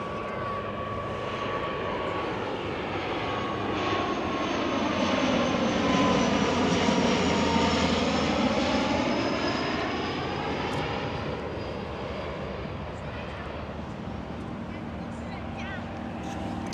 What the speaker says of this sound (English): Here we've got a plane coming in right here